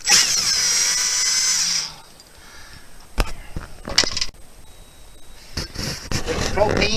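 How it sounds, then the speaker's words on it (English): A cordless drill with a Phillips tip whirs steadily for about two seconds removing burner screws, then stops, followed by sharp clicks and clattering. "you use just a cordless drill and a Phillips tip"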